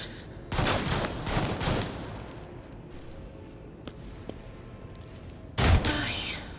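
Bursts of gunfire in the video game Warhammer 40,000 Rogue Trader, a volley near the start and another near the end, with quieter shots and ambient battle noise in between.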